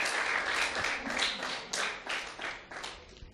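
A wedding crowd applauds the bride and groom in a short burst of dense, overlapping clapping at moderate distance that swells and fades over a few seconds.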